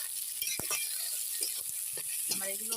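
Fried rice ingredients being stirred in a frying pan, with a faint steady sizzle and a few soft scrapes and clinks of the spatula; quiet and close, no talking.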